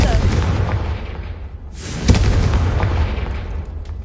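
A Confringo spell explodes in Hogwarts Legacy with one loud, sharp boom partway through. It stands out over a constant low rumble of background noise.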